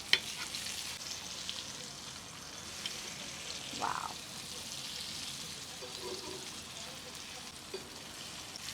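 Soft, steady sizzling of pomfret frying on a hot tawa over a low flame, a faint continuous crackle with a few small pops and clinks.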